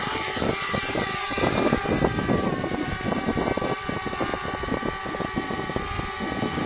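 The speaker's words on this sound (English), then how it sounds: "So I'm going to go ahead, and I'm going to take it up, and we're going to attach the line." DJI Spark drone taking off and hovering outdoors on a beach for surf fishing, a continuous loud, close propeller whine and buzz with steady rapid flutter and some wind buffeting.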